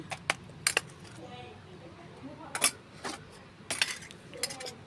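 Sharp, irregular knocks and clacks of pounding in a stone mortar, several hard hits spaced unevenly over a quiet background.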